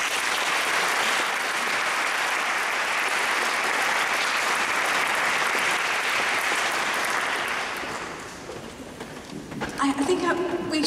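Applause fills a domestic abuse conference hall, broad dense clapping for about eight seconds before fading, after which a speaker's voice takes over.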